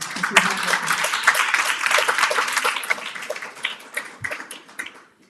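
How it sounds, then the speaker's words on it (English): A live-stream event audience claps together, a busy burst of applause that holds steady for several seconds, then thins into scattered claps and fades out near the end. "let's give her a round of applause again"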